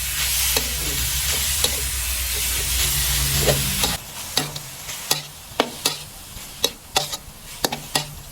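Pork pieces stir-fried in a wok for stir-fried kale with pork: a loud rushing sizzle at first, then quieter frying punctuated by sharp, rhythmic spatula scrapes and clanks against the wok, close up and without talking.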